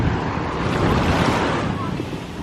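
Sea waves rolling onto a beach near İzmir, a loud, continuous rush of surf mixed with wind buffeting the microphone, with no clear breaks between waves.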